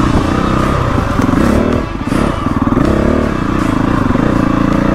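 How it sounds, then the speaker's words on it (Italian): A 500cc two-stroke enduro motorcycle on knobby tyres accelerates on wet asphalt, its engine loud and close, revving up with a brief dip in throttle before pulling hard again. "prima volta con la moto nuova su asfalto bagnato col tassello, vai!"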